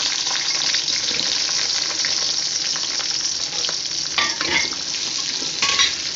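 Chopped onions, cut fairly large, sizzle and fry in hot oil for chilli parotta while being stirred, a steady close crackling hiss with brief scraping stir sounds near the end and no talk.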